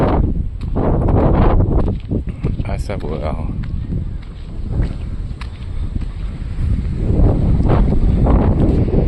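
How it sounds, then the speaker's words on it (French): Heavy wind buffets a camera microphone outdoors in Spain in loud rumbling gusts that rise and fall, with a brief spoken phrase partly buried beneath it. "il y a du vent aujourd'hui, hein, comme vous entendez dans la caméra"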